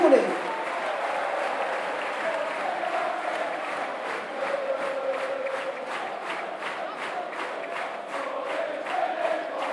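A football crowd at Luton Town versus Forest Green Rovers applauds a substituted player, with sustained clapping and scattered cheers that rise and fall, heard beneath a commentator.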